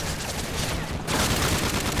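Dense, continuous gunfire from a weapon in TAG152 Chaos Mode, a loud sustained stream of rapid shots with a brief dip in the middle before resuming.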